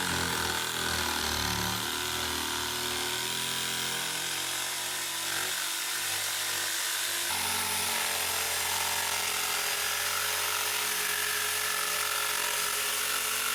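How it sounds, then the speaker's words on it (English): An electric jigsaw saws through a wooden charcuterie board to cut out its handle, a loud, continuous buzzing rasp up close that shifts pitch slightly midway as the cut continues. "Then I cut it out with the jigsaw."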